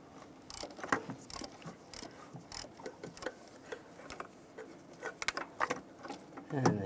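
Quiet clicking of a wrench working loose an upstream O2 sensor on a 2006-2011 Cadillac DTS, a string of irregular ratcheting ticks and small metallic knocks, close and fairly faint.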